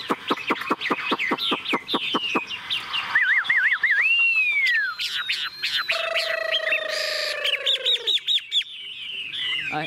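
Caged hwamei songbird singing alone, a loud, close, varied song of rapid repeated notes, clear whistled trills and rising slurs that switch phrases every few seconds.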